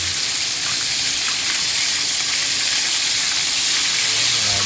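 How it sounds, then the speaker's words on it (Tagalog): Chicken pieces frying in hot oil, a steady loud sizzle and crackle with spattering pops that holds evenly throughout, with no voices over it. "Pritong chicken mga idol"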